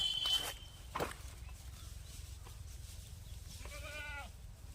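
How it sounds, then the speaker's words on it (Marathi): Goats bleat a few times outdoors, with light rustling and shuffling of hooves moving through vegetation, over a steady low background. "शेळ्या अशा मस्तपैकी चारत्यात"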